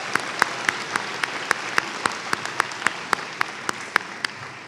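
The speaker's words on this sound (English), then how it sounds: "we could give an applause and show our love to the people who supported our graduates" Commencement ceremony applause for graduates' friends and family, a dense wash of clapping from a large crowd, fairly distant, with a few sharp individual claps standing out at regular intervals.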